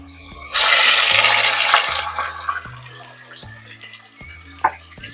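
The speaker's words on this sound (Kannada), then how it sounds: "ಈಗ ನಾವು ಚಿಕನ್ ಮ್ಯಾರಿನೇಟ್ ಮಾಡಿಟ್ಟಿದ್ವಲ್ಲ ಅದನ್ನ ಹಾಕೋಣ." Marinated chicken dropped into hot oil in a pan sets off a loud burst of sizzling that fades to softer crackles, over a faint repeating background tone.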